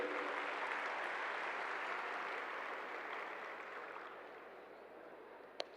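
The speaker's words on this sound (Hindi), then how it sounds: "जोरदार तालियां इनके लिए भी" A conference audience at a national gathering of chartered accountancy students applauds steadily, a dense sustained wash of clapping that slowly thins toward the end, with one sharp clap standing out near the close.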